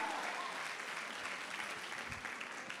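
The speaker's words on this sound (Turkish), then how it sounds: "En büyük destekçilerimiz Atılım Üniversitesi'ne kocaman bir alkış" Audience at a university fashion show event applauding, a steady, fairly dense wash of clapping from a crowd throughout, with a faint voice mixed in beneath it.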